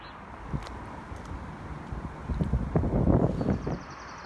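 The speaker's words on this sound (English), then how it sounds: "It's quite windy this evening and cold as well." Wind buffets the microphone in low, uneven gusts that swell toward the end, with faint rustling outdoors on a cold evening while fishing, and no talking.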